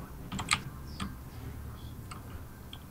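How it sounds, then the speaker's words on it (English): Computer keyboard typing in the game Payday 2, set in an office: a few scattered, light key clicks over a low, steady room hum, fairly quiet and close. "Just typing random things into the keyboard."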